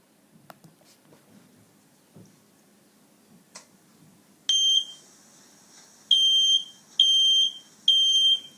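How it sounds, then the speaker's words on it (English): A home fire alarm sounds four loud, piercing high beeps in a steady rhythm, the first standing alone and then three close together, after a stretch of faint ticking and light rustling. "the fire alarm installed in your home starts ringing"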